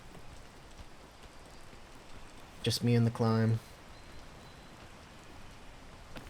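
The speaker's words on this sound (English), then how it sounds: "the rain's really contributing to my downfall right now" Steady hiss of rain falling in a video game, constant and even throughout, with a brief spoken line breaking in over it midway.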